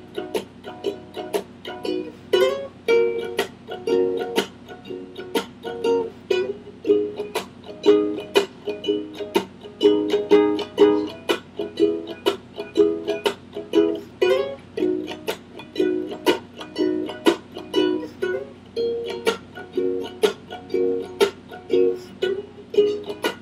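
Ukulele picks out the intro riff of Jason Mraz's "I'm Yours", a steady, bright strummed-and-plucked rhythm played close and clear with no talking.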